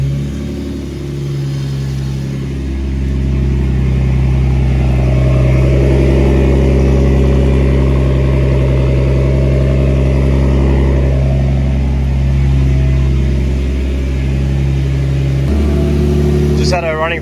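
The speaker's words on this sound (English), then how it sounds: "I fixed the throttle position sensor, so it likes to rev a bit now." A car engine idles loudly on a dyno, then revs up and settles back, its throttle position sensor newly fixed; a deep steady rumble dominates throughout, with voices faintly audible beneath it.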